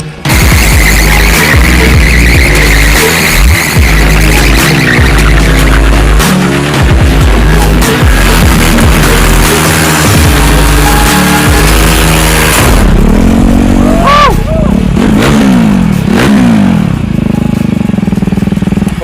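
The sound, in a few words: supermoto motorcycle burnout, revving engine and burning rear tire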